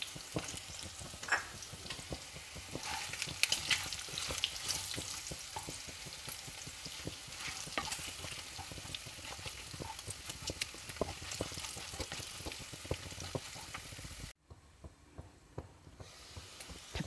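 Pork and fiddlehead ferns frying with chili powder in a pan, a steady close sizzle with frequent stirring clicks and scrapes, briefly cutting out before resuming more quietly.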